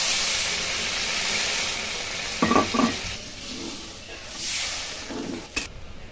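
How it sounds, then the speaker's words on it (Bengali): Hot water poured over spiced potatoes frying in a pan, a loud close hiss and sizzle that holds steadily, with a few brief stirring clatters partway through. "আলুগুলো মশলার সাথে কষা হয়ে গেছে, এবার আমি গরম জলটা দিয়ে দিব।"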